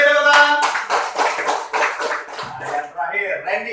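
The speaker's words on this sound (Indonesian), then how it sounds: "Oke, beri tepuk tangan." A classroom of pupils claps hands in quick rhythmic bursts, loud and close, with children's voices chanting over and between the claps.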